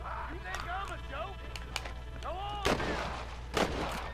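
Gunfire in the video game Red Dead Redemption, several sharp shots ringing out amid game ambience while a player talks over the action.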